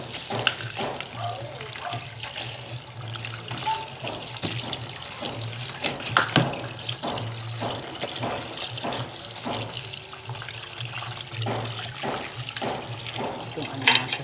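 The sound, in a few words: washing alimasag crabs under running tap water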